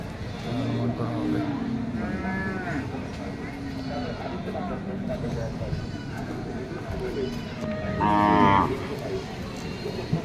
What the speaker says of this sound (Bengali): সবগুলো গরু এখানে সুন্দর গরু